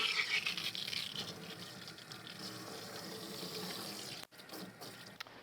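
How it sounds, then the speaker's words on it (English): Tap water runs steadily to rinse conditioner out of medium-length curly hair. The flow is a soft, continuous spray and gush that stays fairly quiet, with a brief break near the end. "we're going to rinse some of the conditioner out"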